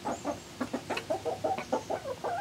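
Backyard hens cluck and murmur while pecking at apples, a close run of short throaty clucks and chortles in quick succession, with no talking.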